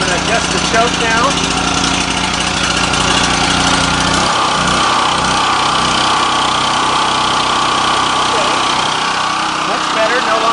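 A loud portable generator engine runs steadily after its choke is adjusted, with a constant mechanical drone whose low rattle smooths out partway through and keeps running throughout.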